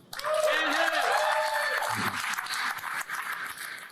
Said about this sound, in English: And uproarious applause